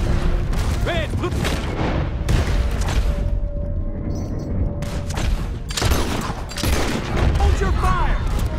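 Gunfire erupts in a Red Dead Redemption 2 chase, volleys of loud rifle and pistol shots with booming reports mixed with shouting voices and galloping commotion.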